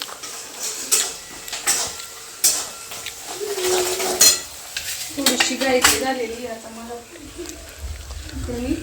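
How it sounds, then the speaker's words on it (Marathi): Hot oil sizzles and crackles as spices fry for a tempering, with intermittent clatters of a spoon against a pan while a person talks over it. "इकडं फोडणी झालेली आहे"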